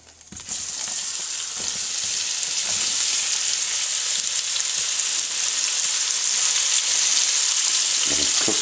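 Onions fry in a pan for hamburger steak with a loud, steady sizzle that carries on unbroken, plus a few soft stirring knocks.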